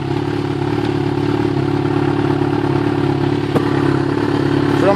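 Yamaha XJ6 motorcycle engine fitted with an upgraded exhaust, idling in a steady, continuous mid-pitched rumble, loud and close, with a faint clatter partway through and no talking.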